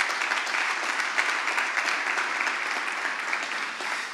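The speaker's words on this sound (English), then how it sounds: "A big round of applause for BETA-I as well." Audience applause for BETA-I at a startup open day event, a steady, moderately loud patter of many hands clapping throughout, slightly easing at the end.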